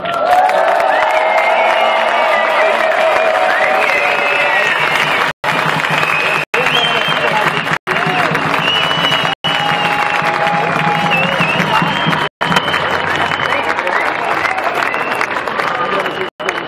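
Loud, sustained applause and cheering from an indoor audience after a panel of five speakers at an event on GMO-free farming in the Lake Constance region, dense clapping with whoops running steadily throughout.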